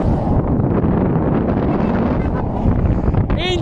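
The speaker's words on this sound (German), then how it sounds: "Etwas viel Wind." Strong wind buffeting a microphone outdoors in New Zealand, a loud, steady low rumble filling the whole stretch, with a brief voice breaking through near the end.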